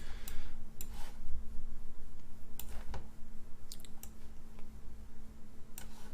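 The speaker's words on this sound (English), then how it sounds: "let's just click here" Several sharp, sparse computer clicks land at irregular moments over a quiet room with a low steady hum, with no voices.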